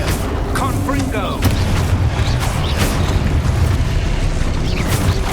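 Booming, crackling magic-spell blasts in Hogwarts Legacy gameplay, the Confringo fire spell among them, layered over a dense game soundtrack with repeated bursts and impacts.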